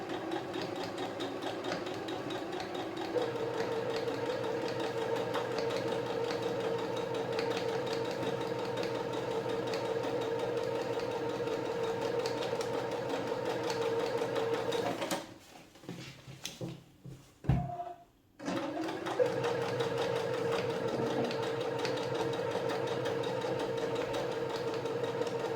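A sewing machine runs a long continuous seam on a cushion, a steady close mechanical whir that drops out briefly for a pause with a few clicks before resuming.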